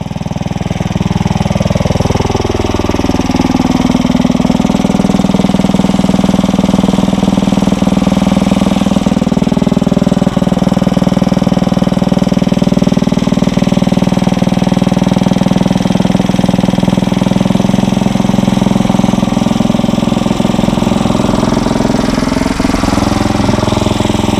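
A Briggs and Stratton 900 series lawn mower engine runs steadily and loud at close range, a continuous droning hum with a slight rise in pitch early on and no talking.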